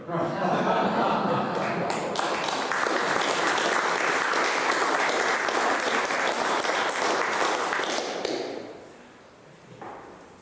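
Audience at an arts cafe poetry reading breaks into warm applause with some chuckles, steady clapping for about eight seconds before fading out.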